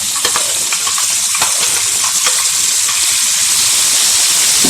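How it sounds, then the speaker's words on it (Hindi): Mutton liver frying in browned ginger garlic paste in a hot pan, a loud close sizzle with stirring scrapes and bubbling, continuous and without talk. "जो ही अदरक लहसुन का पेस्ट ब्राउन होगा तो हम इसके अंदर शामिल कर देंगे कलेजी।"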